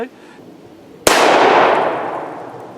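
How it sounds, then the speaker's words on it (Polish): A Derringer .45 LC/.410 pistol fires a single .410 shot shell at a bottle at close range: one sudden loud crack followed by a long, bright, ringing decay, with no talk. "No i strzeliłem, o ze śrutu ja strzelałem teraz."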